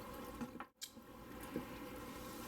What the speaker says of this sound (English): the water is constantly moving